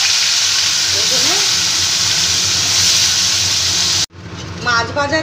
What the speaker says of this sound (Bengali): এতে সর্ষের তেল দিয়ে দিয়েছি আর মাছগুলোকে আমি ভেজে নেব